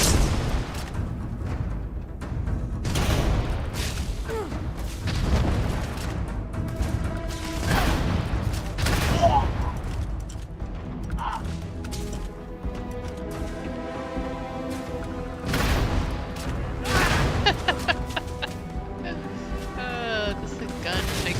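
A gun fires in a video game, Cryomancer in the Free Lanes: repeated punchy bursts and booming impacts recur throughout, heard under steady conversational talk.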